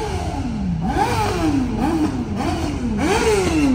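Several motorcycle engines rev repeatedly at night in Tokyo, rising and falling pitch sweeps overlapping in a loud, continuous street din with traffic.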